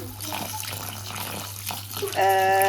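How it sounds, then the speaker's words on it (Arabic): Lentils are washed under a running kitchen tap for lentil vermicelli soup: a steady splashing stream fills the clip, rising louder near the end as the flow strengthens. "العدس لازم يتغسل كويس جدا جدا"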